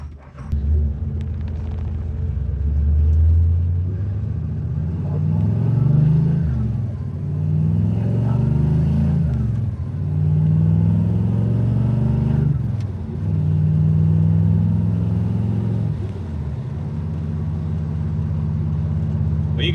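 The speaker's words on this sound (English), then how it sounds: "We're gonna go for a little ride around the block." A 1968 Chevrolet Chevelle with a steep 4.10 rear gear out for a drive around the block, its engine rumbling loud and close and repeatedly climbing through the revs as it shifts gear after gear.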